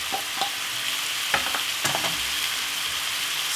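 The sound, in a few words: stirring prawn fry-up in a pan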